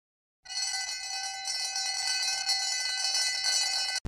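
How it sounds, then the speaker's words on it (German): An electric school bell rings continuously for several seconds, bright and metallic, starting abruptly after a moment of silence and cutting off sharply. "Es läutet, die Stunde beginnt."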